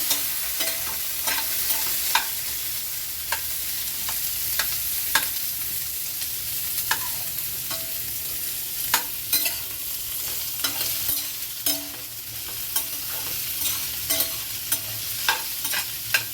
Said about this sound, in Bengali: ভালো করে আলু পেঁয়াজটা মেশাবো।